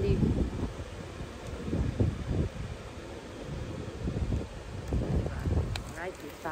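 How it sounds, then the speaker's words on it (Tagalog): Wind gusts buffet the microphone outdoors at night beside a Halloween inflatables display, uneven rumbling bursts throughout, with people talking over it. "Ang windy."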